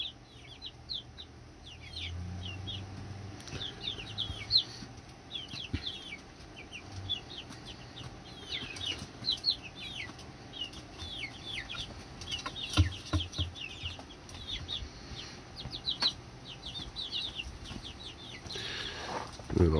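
Chickens clucking and chattering in short bursts, with several hens calling at once at moderate distance amid quiet outdoor background on a frosty winter day, around -34 Celsius.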